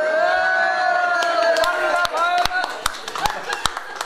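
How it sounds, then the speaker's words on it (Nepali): Hands clapping among a lively crowd, with sharp separate claps that grow sparser and more spaced toward the end, over cheering voices, laughter and chatter. "ताली बजाइरहेको छु है मैले त अङ्कल"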